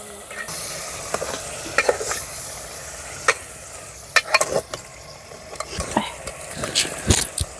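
Chicken curry stirred in a pan in a village kitchen: scraping spoon strokes and metallic clinks against the pan at an irregular pace over a soft sizzle, close by, with brief voices in between.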